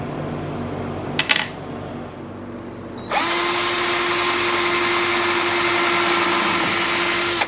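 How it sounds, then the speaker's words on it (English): A brief metallic clink, then a power drill whirs up and runs steadily at a high pitch for several seconds drilling a pilot hole in wood, close and loud. "drill a little pilot hole there, put a screw in it"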